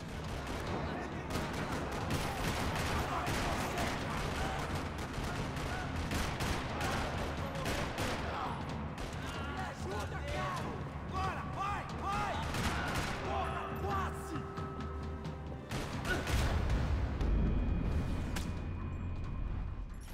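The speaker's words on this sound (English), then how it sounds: "Another parking lot rattling with gunfire." Dense bursts of rapid video-game gunfire in a parking lot crackle almost continuously, with heavier booms mixed in and occasional voices buried underneath.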